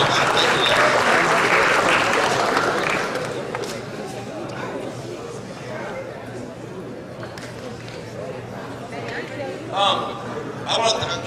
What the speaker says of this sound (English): give the board one more round of applause